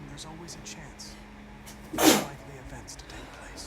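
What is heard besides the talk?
sneeze in Detroit: Become Human video game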